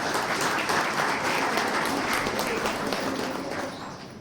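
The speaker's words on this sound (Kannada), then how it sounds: "ಎಲ್ಲದಕ್ಕೂ ಚಪ್ಪಾಳೆಯನ್ನು ಹೊಡಿತಾ ಇದ್ದಾರೆ" An audience at a spiritual program claps together in a dense, continuous round of applause that runs steadily and then tapers slightly toward the end.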